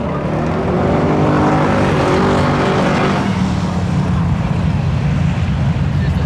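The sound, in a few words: 1992 Chevy Corvette and 1991 Mazda Miata drag racing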